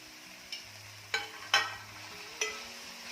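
Fenugreek leaves being stirred with lentils in a pan, a few soft scraping strokes and faint sizzles spaced across the moment, close and fairly quiet with no talking.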